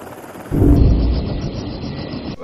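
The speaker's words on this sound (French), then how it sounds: "les militaires sont arrivés avec un hélicoptère très très gros" A very large military helicopter arrives with an abrupt, loud, broad rumbling roar that holds steady for about two seconds before easing slightly.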